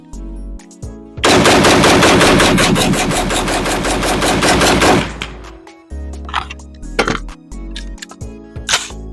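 A PSA PA-15 rifle fires a long, rapid string of rounds at close range, sharp repeated cracks running together for several seconds, followed by scattered single shots and pauses outdoors.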